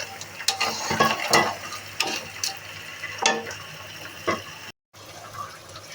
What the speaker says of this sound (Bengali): সাথে ক্যাঁকড়াগুলো একটু ভেজে নিই।